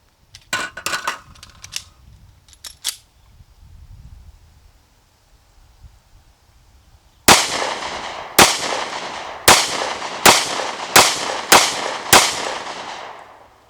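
Shots fired from a Smith & Wesson M&P 40 Shield pistol, seven loud, sharp reports in an uneven string, preceded by quieter handling clicks and rustle.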